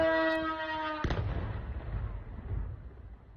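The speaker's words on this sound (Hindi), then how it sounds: "देखिए कैसे धमाका होता है" A siren tone plays briefly, then a heavy missile blast booms out and rolls into a long, low rumble that slowly fades.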